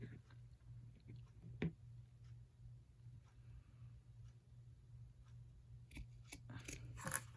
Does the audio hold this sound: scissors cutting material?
yes